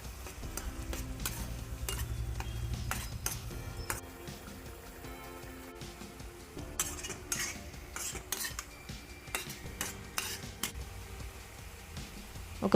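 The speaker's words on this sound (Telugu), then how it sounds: "ఆనియన్ పేస్ట్ మరియు టమాటా పేస్ట్ ఒక 30 సెకండ్స్ అయినా రోస్ట్ చేయండి" Onion paste and tomato paste being stirred and roasted in a pan for Andhra-style Ambur biryani, with a utensil repeatedly scraping and clinking against the metal over a low steady sizzle, close up.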